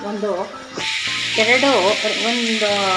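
Dried chilies, Byadagi chilies, ginger and garlic frying in a pan, a loud bright sizzle that surges in and stays steady, with stirring and a voice talking over it.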